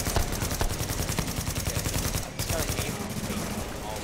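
Rapid bursts of automatic gunfire in a video game, steady rattling volleys repeating close and loud for several seconds with a brief gap midway, mixed with faint voices.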